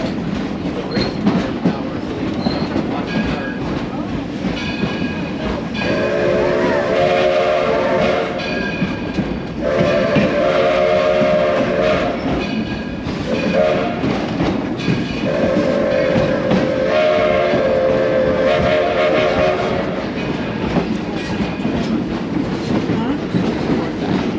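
The Edison #1 steam locomotive at Greenfield Village pulls a passenger train past, a steady close rumble of rolling cars with repeated drawn-out whistle blasts rising over the noise.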